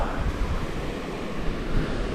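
Treasure Falls in the San Juan Mountains on Wolf Creek Pass pours in a dense, steady roar of rushing water mixed with gusty wind buffeting, loud and close.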